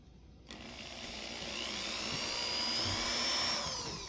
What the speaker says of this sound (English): That one I think might have been the cleanest one I drilled.